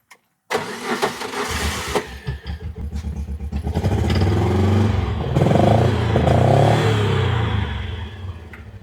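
A 2020 John Deere Gator XUV 590M, just fitted with new spark plugs, cranks briefly, catches and settles into a loud, steady running rumble close by.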